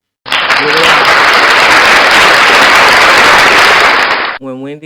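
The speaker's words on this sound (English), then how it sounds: "Fashion insiders, celebrities, and fans alike rose to their feet to applaud her" A crowd gives Wendy Williams a standing ovation, loud, dense applause and cheering that erupts suddenly, holds at full strength for about four seconds, then cuts off as a voice begins speaking.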